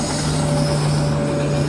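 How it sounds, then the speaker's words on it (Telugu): A train rolls past near a building terrace, a loud continuous rumble of rail noise with a steady tonal hum and faint wheel squeal throughout. "అదిగో ట్రైన్ వెళ్ళిపోతుంది."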